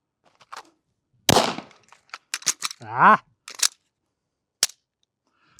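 Pistol shots fired after drawing from an inside-the-waistband holster: a loud sharp report followed by several quicker cracks and clicks, with a brief voice midway, all set against otherwise quiet surroundings.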